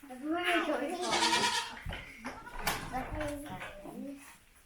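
Goats bleating on a small homestead, several wavering calls rising and falling close by, mixed with people talking over them throughout.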